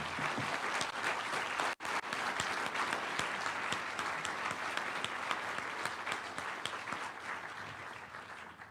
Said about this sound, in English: let's give them one big round of applause before they do that